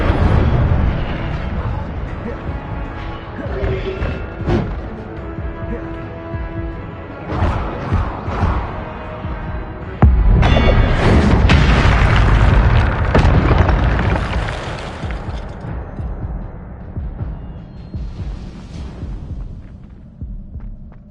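In the Hogwarts Legacy video game, the Incendio fire spell erupts with a deep rumbling whoosh and boom over low humming game ambience, with a fiery roar that swells and then fades.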